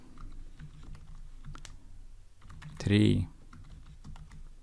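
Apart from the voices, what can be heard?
typing code on a computer keyboard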